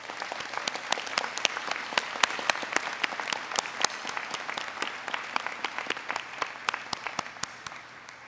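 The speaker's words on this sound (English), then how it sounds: "I propose a round of applause for everyone who has contributed to the success and" A commencement audience at a graduate ceremony claps in a steady round of applause, with dense overlapping claps and sharp individual hand strikes standing out. It stays fairly even throughout and thins slightly near the end.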